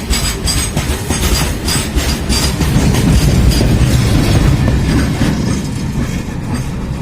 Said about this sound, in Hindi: फिर से एक और गुड्स ट्रेन ने यहाँ पर ओवरटेक मार दिया